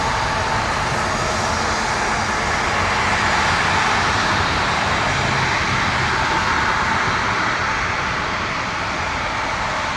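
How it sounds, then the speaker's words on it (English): A Delta Connection RJ 900 regional jet at Toronto Pearson airport gives a continuous broad engine roar with a steady whooshing hiss, loud and sustained for the whole stretch with no speech over it. "the Delta connection on an RJ 900"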